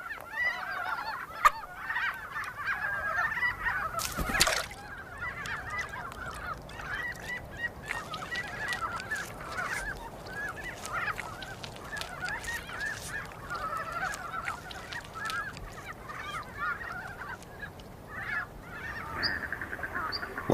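Wild cranes call in Asia in early spring, giving repeated honking, trumpeting cries at a moderate distance over a steady outdoor background.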